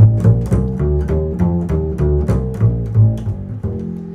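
A bass guitar plays an F dominant scale with a flatted seventh, a steady run of separate, clearly plucked notes on its own at an even moderate tempo.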